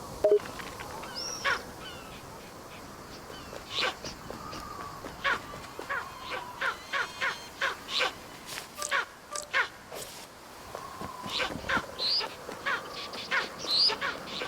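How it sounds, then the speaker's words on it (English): Loud eagle calls in the video game Alba, heard outdoors among trees: harsh, repeated cries in a steady series over a faint ambient bed of distant birdsong, with no talking. "All I see is this eagle, and it's very loud."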